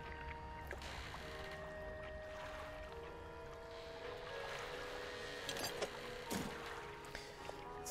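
In the fishing game Dredge, a boat fitted with hydrojet engines runs with a steady low churning hum and watery wash, with a few faint splashes and clicks, fairly quiet throughout.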